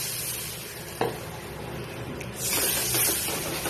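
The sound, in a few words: water poured into cooking fish curry spices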